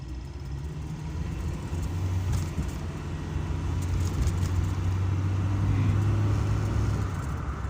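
Steady low engine drone and road noise from inside a moving 1982 Toyota Corolla KE70, with a faint constant rattle running through it; no talking.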